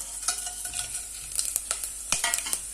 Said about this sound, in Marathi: पातेल्यामध्ये तेल टाकून सगळे मसाले वगैरे टाकून फोडणीला सुरुवात करते